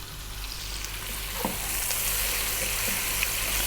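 Chopped onion and garlic frying in a pot, a continuous bright sizzle with a few soft spoon knocks as it is stirred, close and fairly quiet with no speech.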